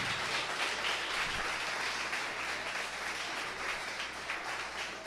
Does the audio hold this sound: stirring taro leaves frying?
no